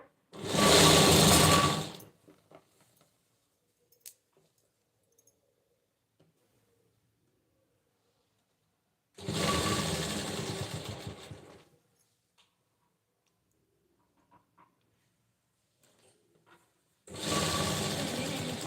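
A sewing machine stitching piping onto a blouse runs in three loud, close bursts, about two seconds each, separated by long quiet gaps holding only faint small clicks and handling noises.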